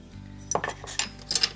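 Craft sand is tipped into a bowl beside another small bowl, giving a few bright clinks and a brief rattling scrape of hard bowls knocking together, close and clear, with no voice.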